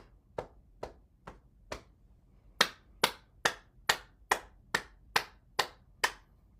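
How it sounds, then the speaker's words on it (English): Hands clap in a health and circulation exercise: about a dozen sharp claps, four slower ones at first and then a quicker steady run. They sound close and clear, with no talking. "when you clap, you're stimulating all the organ systems too"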